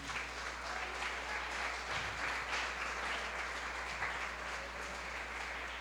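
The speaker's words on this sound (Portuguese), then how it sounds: "Aplauda Jesus por isso." A church congregation applauds, a dense and steady wash of clapping heard at a distance and fairly faint, with a low hum underneath.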